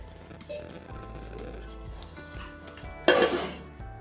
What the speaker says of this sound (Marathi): मी ढाकण देते ह्याला